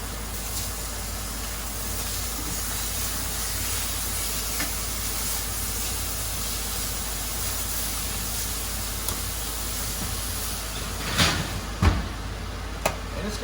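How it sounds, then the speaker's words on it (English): Pork chops sizzle steadily in a hot pan, a constant broadband frying hiss with a few sharper pops and crackles near the end, close and moderately loud with no talking. "I'm going to go ahead and flip them now."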